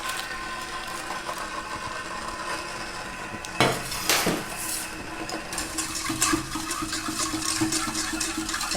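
Melted oil phase poured into a water phase and stirred with utensils for an upcycled foot scrub, giving a steady liquid wash with several clinks against the container midway, close and fairly loud, with no talking.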